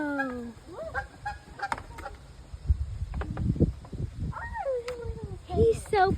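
A goose in a creek gives several nasal honks, some rising and falling, moderately close, while people talk over the outdoor stream noise.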